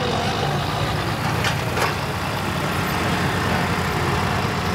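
A truck-like engine runs steadily with a low, rough drone, with a couple of brief irregular stumbles early on that suggest a missing cylinder or ignition fault.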